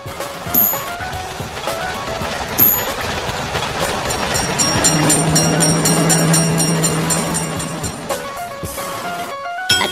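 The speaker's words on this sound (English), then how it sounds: "Attention! Train is coming!" A train rolls past at a railroad crossing in a mobile video game, with loud rumbling, rhythmic clattering and a sustained tonal hum, swelling in the middle before fading, mixed with game sound effects.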